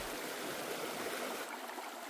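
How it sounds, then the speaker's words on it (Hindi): A river flowing right past the door of a jungle resort, a continuous soft rushing stream sound with gentle gurgling, steady and moderately distant, with no voices over it. "ये देखिए अपने बिल्कुल दरवाजे से ही बह रही है नदी।"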